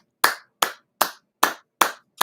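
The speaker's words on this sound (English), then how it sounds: "Everyone, a round of applause for Marcus." Six crisp, evenly spaced hand claps, each sharp and short with a quick fade, about two per second, clear and alone with no crowd or voices.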